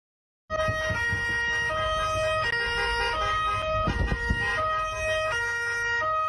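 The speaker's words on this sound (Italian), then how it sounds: "in sottofondo c'è il suono delle sirene solitamente utilizzate dalle forze" A wailing police siren sounds loud and continuous, its pitch shifting between tones as a vehicle engine rumbles underneath.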